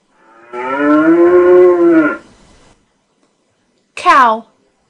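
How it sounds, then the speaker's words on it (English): A cow moos in one long, loud, low call close by, then after a pause gives a second short moo; no one talks. "Cow."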